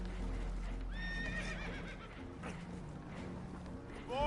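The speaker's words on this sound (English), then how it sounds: "Horses are spooked, and we're taking on water." Spooked horses in Red Dead Redemption 2 whinny in several rising, wavering neighs amid clopping hooves and a busy low background, fairly faint, with a last whinny at the end.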